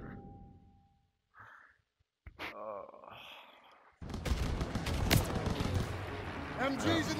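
Call of Duty WW2 machine gun fire crackles in a wartime battle, a dense rattling barrage that swells loud in the second half after quieter scattered sounds and brief voices.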